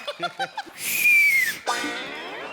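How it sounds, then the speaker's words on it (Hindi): On a comedy stage show, someone lets out a loud sliding whistle that falls in pitch, followed by a second wavering whistle. Short bursts of speech come just before, and the moment sounds close and lively. "मेरी तरफ देख के सीटी मारी तूने"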